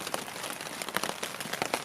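Rain keeps drumming on a tent at a snowy Grand Canyon backcountry camp, making a constant close hiss of drops with scattered louder taps.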